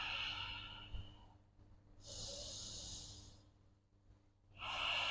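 Slow, steady breathing in and out through the nose during a power yoga session, with soft airy breaths swelling and fading in two or three long cycles, close and quiet, no talk.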